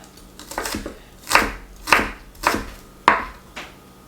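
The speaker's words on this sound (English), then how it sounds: "So I'm just going to give these a quick chop" A knife chops potato onions on a board in about six crisp, loud, evenly spaced strikes, with no talking.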